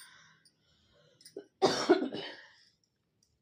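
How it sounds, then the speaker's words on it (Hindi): A woman coughs a few times in quick succession, close and fairly loud, after a couple of small throat sounds, then quiet. "मुझे खांसी ना बहुत ज़्यादा खांसी आ रहा है"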